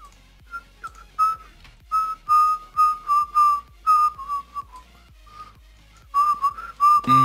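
A person whistling a tune in short, bright notes and phrases with brief gaps between them, fairly close and clear over a quiet background.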